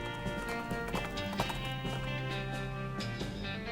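Horse hooves clip-clop at a steady walking pace in the video game West of Loathing, close and continuous, with a faint whinny-like tone in the background.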